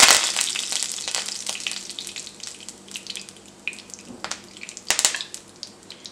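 Curry leaves crackle and spit as they fry in hot oil for a green tomato chutney, a dense close sizzle with sharp pops and bursts and no talking.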